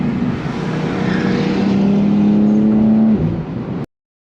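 A Lotus Emira or Evora sports car engine drones loudly and steadily nearby, holding a sustained tone before cutting off abruptly near the end.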